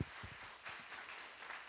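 A church congregation applauds during a Sunday sermon, giving a short, steady wash of clapping that stays fairly faint and distant throughout.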